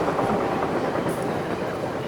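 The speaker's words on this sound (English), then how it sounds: "wait until the train goes by" A commuter train passes close by in Westchester, a loud, steady rushing rumble with faint rail clatter that holds at full strength throughout, with no speech.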